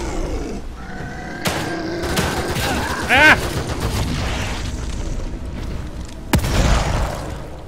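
Pistol gunfire in the horror video game The Evil Within 2, several sharp shots and booms spread over a few seconds, with one louder blast near the end and a creature's growl amid the action.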